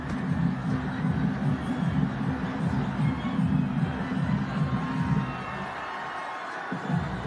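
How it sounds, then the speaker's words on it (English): Cricket stadium crowd roaring after a no ball, a loud sustained wall of cheering and rhythmic chanting that drops away near the end. "The crowd right now are going mental."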